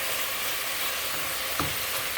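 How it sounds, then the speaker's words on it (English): Chicken curry sears and sizzles in a pan on high heat, a steady broadband frying hiss running throughout, with a couple of brief stirring scrapes near the end. "While it's simmering on high heat for about 2 minutes, we're gonna mix it every so often."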